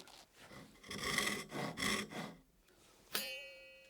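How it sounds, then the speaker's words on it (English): A hand saw cuts wood with its rip-tooth side while drawers are built by hand in the Scandinavian style. Several quick, rasping back-and-forth strokes sound up close, ending with a brief metallic ring. "Wow, cut that with the rip side."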